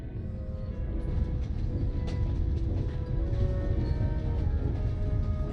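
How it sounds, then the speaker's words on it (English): A train in Genshin Impact pulls away in a Snezhnaya setting, a steady rumbling low roar with faint clanks and hissing, constant and fairly loud throughout, no voices over it. "And off goes the train."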